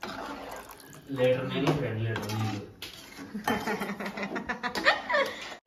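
Water splashes into a cooking pot of chicken blood curry with clinks of utensils, while people talk close by throughout.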